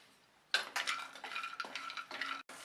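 Almonds and cashews roasting in ghee over medium heat, silent at first, then a burst of metal spoon scraping and clinking against the pan with light sizzle, repeated stirring strokes close up.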